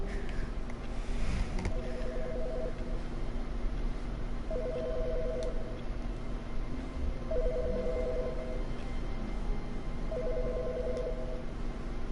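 Telephone ringing in the video game The Stanley Parable, four evenly spaced electronic ring bursts over a quiet room hum.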